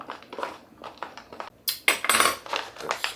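A spoon stirs tuna casserole in a pot, giving a run of close, bright metallic clinks and scrapes that start sparse and then grow louder and denser in the second half.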